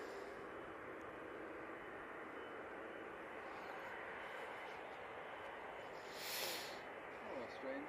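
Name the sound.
Easyjet airliner arriving at Manchester Airport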